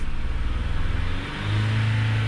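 A 2022 Genesis GV70 engine with a cylinder 4 misfire revs up as RPM is raised, a steady loud mechanical drone that dips briefly and then climbs to a higher, stronger hum.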